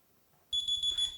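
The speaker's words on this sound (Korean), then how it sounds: "시간이 다 지난 이후에 알람이 울리고" A countdown timer alarm on a smartboard goes off after a brief quiet moment, with a steady, pulsing electronic beep that stays loud and clear to the end.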